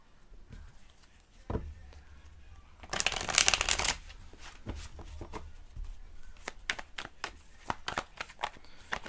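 Tarot cards shuffled for a reading: a loud riffling burst in the middle, then a run of crisp card slaps and flicks, close up and without talk.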